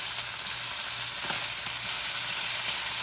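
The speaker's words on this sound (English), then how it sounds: "Frying ham makes a mess" Ham sizzles and spatters loudly in a hot pan, a constant close crackle with no talking.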